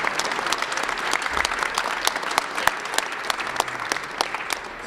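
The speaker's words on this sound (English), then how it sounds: "Another round of applause for Karen as she walks off" Sustained applause from a crowd at a legislative hearing on a Down Syndrome protection act as Karen walks off, dense steady clapping with sharp individual claps throughout.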